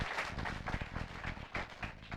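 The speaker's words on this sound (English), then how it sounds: "Please, let's give them a huge round of applause" Indoor meeting audience applauds, a dense, steady patter of many hands clapping at moderate volume for about two seconds.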